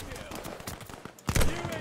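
Rapid sharp gunshots from a sniper rifle in Call of Duty Vanguard, fired in quick succession and ending in a heavier burst, loud and close in the game mix.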